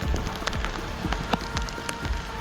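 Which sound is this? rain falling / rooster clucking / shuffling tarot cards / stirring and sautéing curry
rain falling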